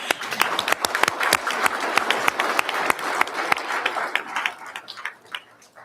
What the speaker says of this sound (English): Okay, so we're going to clap